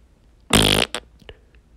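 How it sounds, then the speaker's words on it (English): A single loud, buzzy fart from a dubbed parody of a Scooby-Doo cartoon, lasting about half a second with a short second burst after it, then quiet. "Hey, did one of you skanks fart?"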